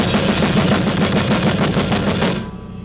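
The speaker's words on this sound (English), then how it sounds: "It is called the bomb blast because it sounds like a war." A drum kit plays a bomb blast beat, with hands and feet firing rapid sixteenth notes on snare, kick and cymbals in a dense, machine-gun-like barrage that cuts off abruptly near the end.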